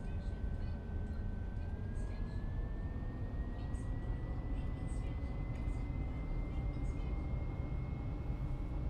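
Aircraft taxiing in a flight video game, a steady droning engine hum with a slowly rising whine that holds constant throughout, no pauses.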